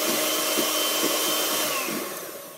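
Electric whisk beating crème brûlée custard in a boat's galley kitchen, a steady close whirring drone that holds level and eases off slightly near the end.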